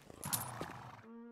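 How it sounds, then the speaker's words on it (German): A horse in the video game Rustler gives a short whinny with hoof clip-clops, fairly faint and brief, ending in a held tone. "Ich will das Pferd."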